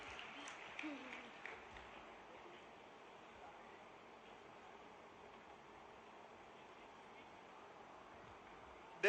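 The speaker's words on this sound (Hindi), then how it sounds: "तो सब बेटियों को ताली बजा के अपनी बहनों का स्वागत करना चाहिए। ताली बजाओ जोर से।" Applause from a crowd of girls welcoming their sisters at a public gathering with Madhya Pradesh's chief minister, a steady dense wash of clapping that holds throughout, slightly stronger at the start.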